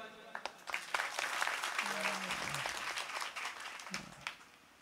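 An audience claps at a comedy kirtan: a sustained patter of many hands with sharp individual claps, heard alongside a voice throughout.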